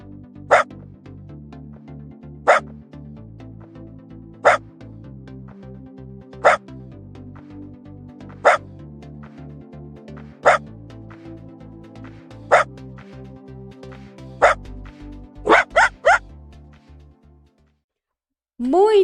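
A dog barks in single sharp yaps spaced about two seconds apart, with a quick cluster of three near the end, over a low steady background hum, then silence before a sudden final burst.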